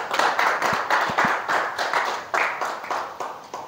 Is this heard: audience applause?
yes